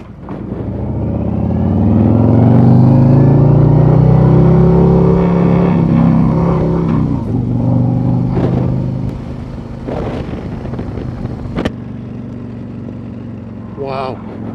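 A 2024 Harley-Davidson Road Glide motorcycle engine rumbles and revs up loudly while riding, settling into a steady drone with wind noise and a few clicks.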